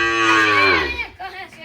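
Cattle moo loudly and close by in a village during windy, rainy weather: one long drawn-out low call that fades, followed by a shorter, quieter grunt.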